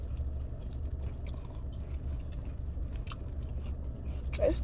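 Biting and chewing a crunchy hot biscuit, soft crunches and mouth sounds close up over a low steady background hum, with a few faint clicks.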